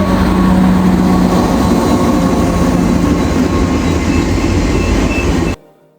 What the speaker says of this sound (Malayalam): ഒരു ട്രെയിൻ ഇപ്പം തന്നെ പോയി, അടുത്തത് ദേ വരുന്നു.